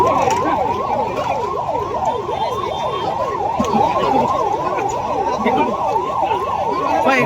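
An ambulance siren wails, sweeping up and down continuously, loud and close, during a mock drill, with traffic rumble underneath and a voice faintly audible beneath it.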